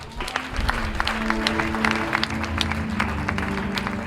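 Church congregation clapping together in a steady, dense burst of applause that fills the room, with a faint background hum and no clear speech.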